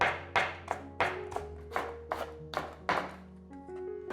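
A knife chops carrot into shreds on a board in quick, close, crisp strikes, about a dozen sharp knocks in an uneven rhythm with no talk.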